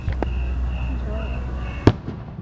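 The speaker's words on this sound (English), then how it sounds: "Nobody wants to record fireworks." Scattered Fourth of July fireworks pop at a distance, with one sharp loud bang near the end, over a steady low rumble and faint voices.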